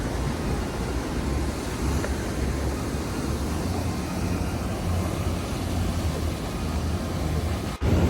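Sea waves at Bekal Fort in Kasaragod, Kerala, make a continuous broad roar of surf mixed with wind buffeting the microphone. The sound holds steady with no talk and ends in a short dropout.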